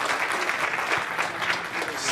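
A conference audience applauds a speaker introducing an open-source antivirus project, a dense, even wash of clapping from many hands throughout the short moment.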